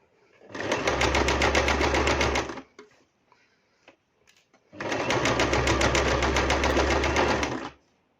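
A sewing machine stitches along the edge of a flared skirt through three layers of fabric in two bursts of rapid, loud, even mechanical chatter, separated by a short pause with light handling noises.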